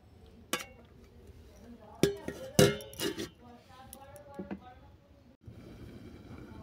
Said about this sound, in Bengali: এটাকে আমি নেড়ে চেড়ে একটা ডিশ ঢেকে দেবো 5 মিনিটের জন্য